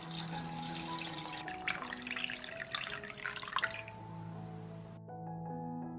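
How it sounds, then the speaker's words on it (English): Lukewarm water is poured into a pot of jars. A steady, splashy rush runs close by for about five seconds and then cuts off, with soft sustained musical tones continuing underneath throughout. "I pour lukewarm water into the pot up to the height of the lid."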